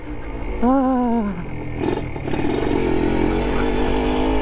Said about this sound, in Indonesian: Kita pakai motor Ninja